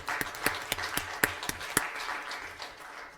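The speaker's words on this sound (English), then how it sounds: "So they all definitely deserve a round of applause." Applause at a school board meeting: a few people clap in a quick, even rhythm, sharp distinct claps for under two seconds before the sound thins into fainter scattered clapping in a quiet room.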